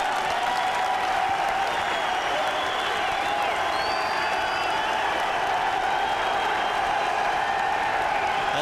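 Warm applause from a golf gallery greets players at the 2006 Ryder Cup, a sustained, even roar of many hands clapping with faint cheers, continuous and broad like a large crowd at a distance.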